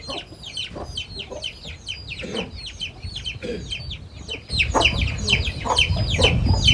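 Mother hen leading her chicks outdoors, soft repeated clucks mixed with constant high peeping from the chicks, growing a little louder toward the end.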